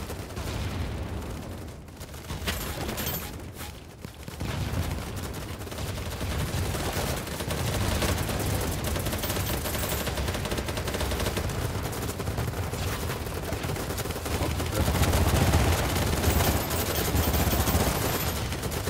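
Rapid gunfire from a PP2000 submachine gun in the shooter game Battlebit Remastered, a dense, sustained loud burst of shots with other battle noise mixed in, running almost the whole time.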